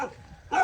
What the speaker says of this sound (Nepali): यहाँनिर बाँधेको रहेछ यो कुकुर चाहिँ